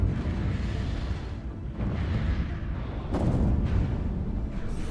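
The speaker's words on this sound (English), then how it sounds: "And that's the perdition cannon." Booming, rumbling explosions from the perdition cannon firing in the video game Stellaris roll on continuously, with heavier bursts partway through, dense and loud without speech.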